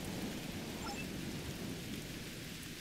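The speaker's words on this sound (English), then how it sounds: "Wow, rain on Ryza. I guess they haven't installed the weather control systems yet." Steady, dense rain pours with a low rumble of thunder underneath, continuous and fairly loud throughout, in a sci-fi adventure game scene on the planet Ryza, with no voices.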